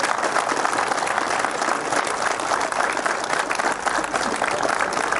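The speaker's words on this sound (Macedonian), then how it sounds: "Да го поздравиме сите заедно со еден голем аплауз идниот градоначелник на општина Јагуновце" Loud, dense applause from a large crowd at a political rally welcoming a mayoral candidate in Jagunovce, continuous and sustained throughout.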